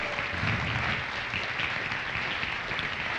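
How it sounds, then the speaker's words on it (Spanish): A church congregation claps loudly and steadily in praise of the Lord, a dense, even wash of applause filling the room for about three seconds with no voices over it. "Dame un aplauso fuerte al Señor"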